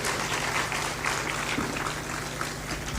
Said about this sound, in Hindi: ताली बजाते जाना।